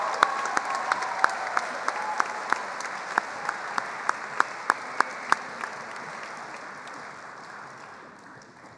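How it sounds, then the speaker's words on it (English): A crowd applauds loudly, with some sharp rhythmic clapping standing out, and the applause gradually fades toward the end. "One more round of applause for your 1990s All-Decade team."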